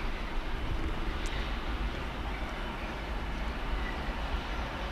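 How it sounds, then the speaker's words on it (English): Freightliner intermodal freight train rolling past steadily, a continuous broad rumble holding at even loudness throughout. "Comes another Freightliner modal"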